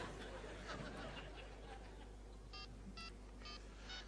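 A short run of mobile phone dialing keypad tones beeps out in a quick sequence, with faint murmuring and a low hum beneath.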